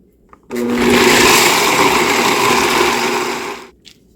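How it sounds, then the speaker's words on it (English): Walnuts, almonds and hazelnuts are minced in a blender, a loud, steady whirring grind that runs for about three seconds and then cuts off. "I'm going to get these all minced up"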